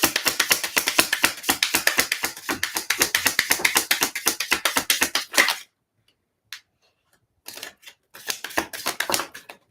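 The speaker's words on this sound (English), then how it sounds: "I'll give them a good shuffle." A deck of tarot-style reading cards is riffled and shuffled in quick, dense bursts of crisp flapping clicks, then a pause broken by a few isolated taps before another short flurry of shuffling.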